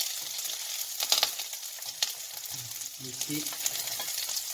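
Green asparagus frying in butter in a pan, with a moderate crackling sizzle, a few sharp utensil taps and a brief spoken word partway through.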